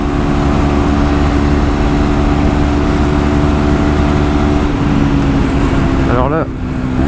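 A 2017 KTM Duke 125 motorcycle engine revs loud and close while overtaking, a sustained high-pitched drone that rises in pitch near the end, with a rider talking over it.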